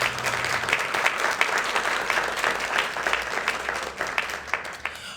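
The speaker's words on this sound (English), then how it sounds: "Please give her another round of applause." An audience at a school Veterans Day program claps steadily for a student vocalist, a dense, even patter of many hands that holds at a moderate level for several seconds without letting up.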